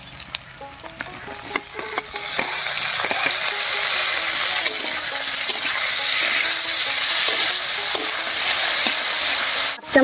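Chopped onion and tomato fry in a hot pan, giving a steady loud sizzle throughout with occasional stirring scrapes and clicks near the start.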